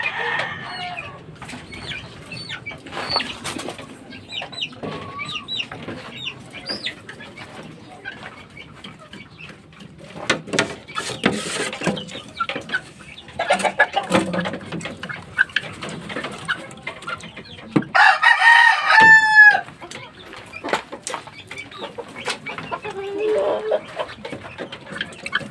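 Fighting roosters and chickens on a farm cluck through the clip, with a loud crow near the end, while someone talks intermittently nearby.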